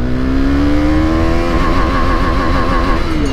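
A motorcycle engine revs hard through a wheelie on a road, loud and close, its pitch climbing steadily before wavering and settling.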